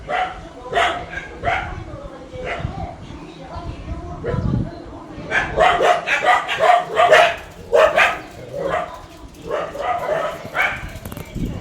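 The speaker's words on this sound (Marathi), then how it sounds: "लई भुंकत राहते तशी मुकाट सोडली की" Several short dog barks and yips come in bursts, some close together, with other ambient noise and occasional voices in between.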